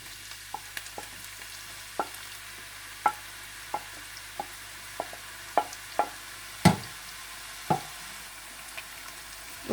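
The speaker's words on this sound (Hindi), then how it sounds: "आप तेल गरम कर लें। इसमें आप कटे हुए प्याज डाल दें" Chopped onions fry in hot oil while a beef pasanday is being cooked: a faint steady sizzle punctuated by regular stirring clinks and scrapes of a utensil against the pan, with no talking.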